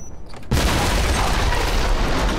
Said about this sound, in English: Time until the explosion.